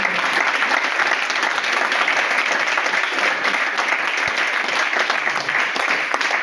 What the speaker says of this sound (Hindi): ये सामने सभी लोग एक बार जबरदस्त तालियां बजाएं।